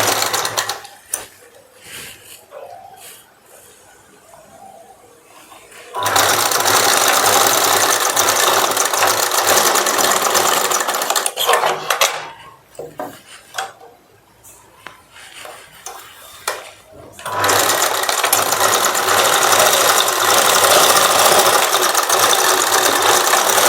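An electric sewing machine runs while stitching a boat neck saree blouse. The whirring, clattering bursts last several seconds each and are separated by short quiet pauses, with some faint voice in the background.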